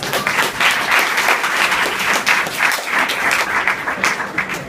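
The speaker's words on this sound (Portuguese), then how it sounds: "Palmas pra eles." A church congregation applauds after the preacher asks for a round of applause, steady clapping filling the room at a constant level for the whole stretch.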